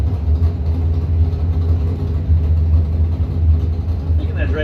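A nitrous dragster race car engine rumbles steadily and loudly at close range, a deep low drone with a faint rising whine near the end.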